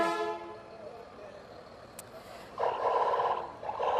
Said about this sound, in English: I would definitely hear them coming if I heard that horn anywhere.